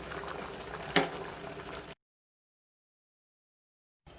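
Sambar curry simmering in a pot gives a dense bubbling, popping texture for about two seconds, with one sharper pop near the start, followed by a sudden silence and a brief return of the bubbling at the end.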